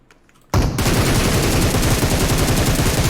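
Sudden loud automatic gunfire in PUBG Mobile bursts in after a quiet moment and keeps firing continuously and close-up to the end.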